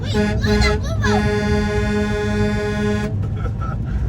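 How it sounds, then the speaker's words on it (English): Horn honked from a boat at passing jet skis on open water, a steady sustained blast lasting about three seconds, with people talking and voices around it before and after. "So this time we were the one to honk."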